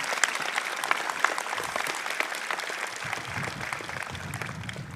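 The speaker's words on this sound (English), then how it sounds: "how about a round of applause for our special guests?" Audience at a Trent University convocation ceremony in Peterborough applauds special guests, a steady dense wash of clapping for five seconds, moderately distant, with a low murmur entering partway through.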